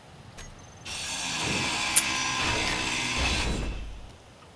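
A badger drill whirs steadily in the survival game Space Engineers, a broad mechanical grinding hum that starts abruptly, holds for about three seconds with a brief sharp click midway, then fades out, with no talking over it.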